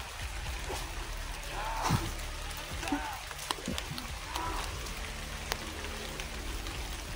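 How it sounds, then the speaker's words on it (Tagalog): Steady rain hisses across the whole clip, with scattered drops and splashes and a few brief noises, no clear voices. "Lakas na yung ulan eh."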